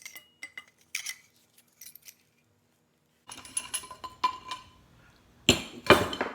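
Metal clinks from a dirt bike fork casing being fitted during a fork rebuild, in scattered short taps and knocks with a quiet gap, then a louder run of clattering metal contact near the end.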